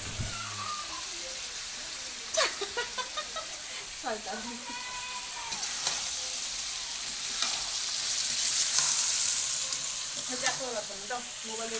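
Meat sizzles steadily in an old, blackened iron wok, with scraping stir strokes. The frying swells louder toward the middle, and faint voices sound in the background.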